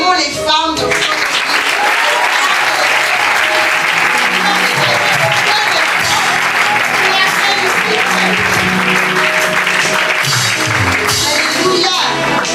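Loud, sustained applause fills a church seminar hall as the congregation claps for the women of their lives, a dense steady wash lasting throughout with a few faint voices mixed in.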